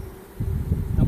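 Honeybees buzzing at an opened beehive, a dense low droning hum that swells after a brief quieter moment, close and continuous with no voices.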